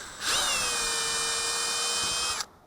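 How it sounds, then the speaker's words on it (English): A power drill whirs steadily for about two seconds, spinning screws out of a Fan-Tastic Model 1250 roof fan, close and loud, with a rising start and an abrupt stop. "So now you can start taking the screws out."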